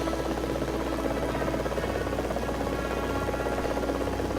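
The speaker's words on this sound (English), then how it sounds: "this is me taking the Jungle Explorer helicopter for a test drive" Jungle Explorer helicopter from Lego Worlds flying in the game, a steady, dense droning rotor and engine hum that holds unbroken and fairly loud throughout with no voices.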